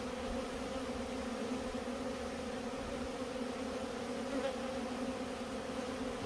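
A small honeybee colony hums in a steady, even drone during an October hive check, close and continuous with no voices over it.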